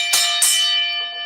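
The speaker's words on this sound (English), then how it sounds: "Bell calling." A bell rings twice in quick succession with bright metallic strikes, leaving a sustained ringing tone that slowly fades, loud and close, with no voices.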